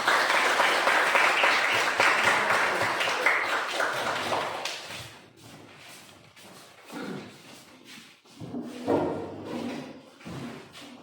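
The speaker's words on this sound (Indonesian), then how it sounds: "untuk kelompok 2 berikan tepuk tangan yang meriah" A classroom audience of students claps loudly for a presenting group for about five seconds, the applause then fading into scattered taps and knocks.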